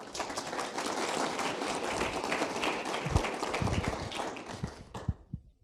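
An audience applauds after a healthcare presentation on ostomy products, a dense, sustained clapping that thins out near the end into a few scattered individual claps before stopping.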